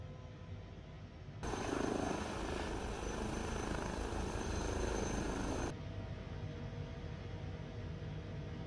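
An H160 helicopter in Flight Simulator 2020 runs its engine and rotor during takeoff, a steady whine and rumble that jumps louder for several seconds and then drops back to a lower drone.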